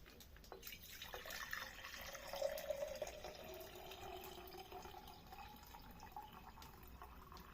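Boiled water poured from a pot into a bottle, a soft continuous trickle and splash rising slightly in pitch as the bottle fills, faint and close with no talk.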